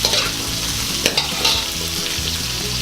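Red onion and garlic frying in a pan for beef kaldereta, a steady broadband sizzle with scraping stir strokes from a spoon or spatula, close and loud with no talking.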